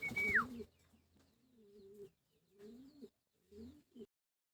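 Soft, low pigeon coos repeat in three separate bursts after a brief noisy rustle at the start, fairly close and otherwise quiet between calls.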